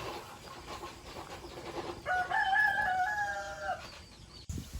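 A rooster crows loudly and close by on a rural farm in the provinces, its call rising over a background of hens clucking and general barnyard noise.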